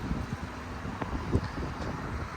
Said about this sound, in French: Il y a un peu de vent. C'est l'hiver.